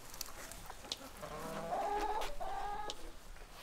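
Chickens cluck in a farm barn in Bhutan, a few close, bright clucks and squawks rising over a quiet room with faint background noise.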